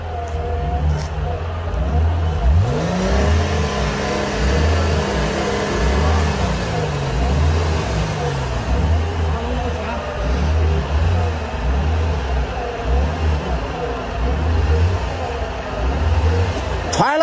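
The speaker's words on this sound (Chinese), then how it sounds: "现在直接往后边倒车。 往后倒车，对，直接拉出来" A car engine revs in repeated low surges while the car backs out of a spot where it was stuck on a steep mountain road, climbing and falling in pitch with steady engine drone between the pulses.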